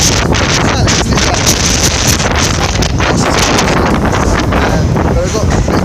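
Heavy wind buffeting a microphone outdoors in Blackpool, a loud continuous rumbling roar with constant gusty turbulence throughout, nearly drowning everything else.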